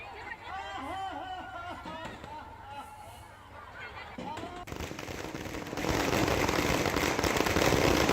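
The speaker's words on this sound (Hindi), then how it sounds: "पूर्णिया में भव्य आतिशबाजी हुई, रावण के पुतले का दहन किया गया।" Fireworks go off at a Dussehra celebration where a Ravan effigy is burned in Purnia, with crackling bursts and whistling rockets building into a dense, loud barrage amid crowd noise.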